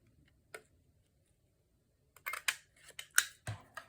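Scissors cut a notch in paper, first a single snip, then after a pause a quick series of sharp, close snips and clicks.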